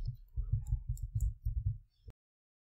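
Quiet typing on a computer keyboard while entering a search for a Bluetooth driver: a quick, even run of soft close-up key clicks lasting about two seconds, then silence.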